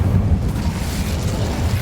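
An Incendio fire spell in Hogwarts Legacy, a loud roaring whoosh of flame with a heavy low rumble and crackling hiss, steady and close throughout, no voices.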